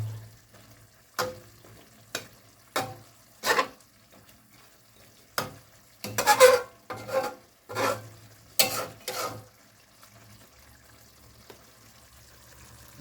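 Chopped onions sizzling and being stirred in a pan of chicken adobo with pineapple, with short bursts of scraping and frying repeating over several seconds, close and fairly loud.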